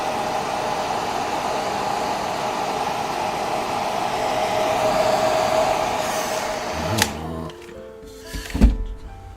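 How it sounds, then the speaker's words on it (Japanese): A hair dryer blows steadily and loudly close by while drying a painting, then switches off, followed by a few clunks and handling knocks. "今ドライヤーで乾かしておりますけど"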